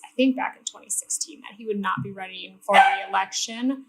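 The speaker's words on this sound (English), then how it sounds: "Sorry about my dog." A dog barks and yips several times in the background, mid-distance and fairly faint, while someone speaks steadily over it throughout.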